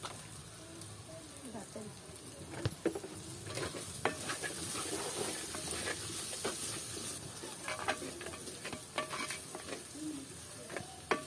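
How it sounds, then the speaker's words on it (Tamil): Potatoes sautéing in a pan for a Jaffna-style village chicken curry, a steady low sizzle broken by scattered clinks and scrapes of stirring, with a voice talking faintly now and then. "உருளைக்கிழங்கையும் போட்டு வதங்க விடுவோம்."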